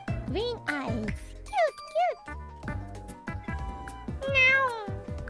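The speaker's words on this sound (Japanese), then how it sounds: "わ、 猫。 キュート。" A cat in the video game Minecraft meows repeatedly, high and bright, over game music with a steady chiming tinkle in the background.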